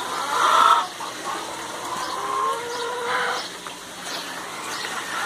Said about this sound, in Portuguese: Estão escutando os cantar das galinhas aí? Olha, a galinha canta diariamente.